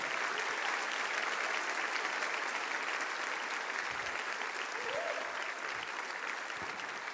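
A church congregation at a revival service applauds strongly, a continuous dense clapping from a large crowd filling the hall, steady and unbroken with no clear speech.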